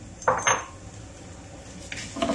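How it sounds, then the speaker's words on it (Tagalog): Risotto rice being stirred in a pan with oil and mushrooms, giving a couple of brief scraping, clinking utensil strokes against the pan over a low background hiss, with a further burst of stirring near the end. "Saka po natin ihalo yung kanin. Yung risotto rice."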